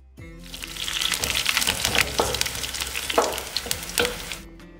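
Mustard seeds, garlic, curry leaves and dried chillies crackle and sizzle loudly in hot coconut oil for a tempering. The frying holds steady throughout with sharp pops and stirring clatter, and no one speaks.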